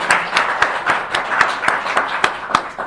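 Congregation clapping together in a church service, an even, rhythmic round of applause with sharp regular beats and a dense wash of hands, steady and fairly loud throughout.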